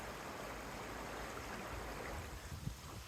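A creek in the Eastern Sierra flows in fall, a steady soft rush of water heard alone at low level, with a few small splashes near the end.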